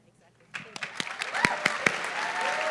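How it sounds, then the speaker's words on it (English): Applause from the audience at a live Xena fan convention swells from scattered claps into sustained clapping, with a voice speaking over it. "Huge round of applause."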